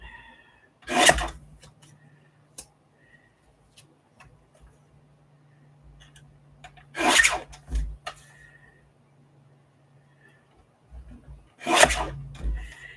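Paper being trimmed with scissors for a handmade detective-themed journal: three separate bursts of crisp snipping and rustling spaced several seconds apart, close and clear, with faint quiet handling in between.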